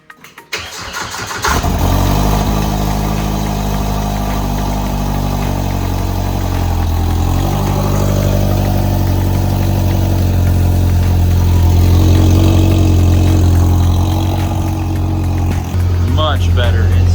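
A Polaris RZR Pro R with a DIY budget exhaust starts up and then idles loudly and close by, a deep steady rumble with slight revving swells throughout.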